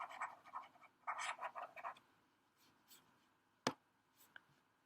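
Writing on a board is rubbed out in a burst of short, raspy scrubbing strokes, close but quiet, then a single sharp knock and a faint tap in a quiet room.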